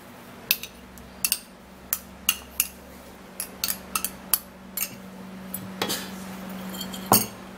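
Skin tag remedy ingredients are stirred together in a container, giving a series of light clinks and taps from a utensil against glass, irregular and fairly close over a faint background hum.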